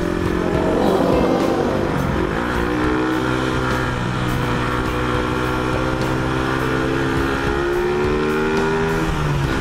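A large-displacement motorcycle engine, a Yamaha XMAX or Honda CBR150, revs hard and loud, pitch climbing and falling through repeated acceleration bursts, with no talking.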